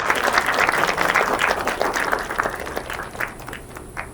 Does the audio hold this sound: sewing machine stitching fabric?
no